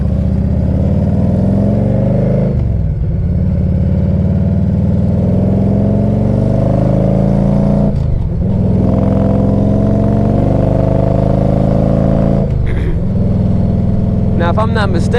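A 1998 Harley-Davidson Electra Glide Classic with a 1340 Evo engine on the road, giving a loud, steady low rumble that dips briefly at a few gear changes.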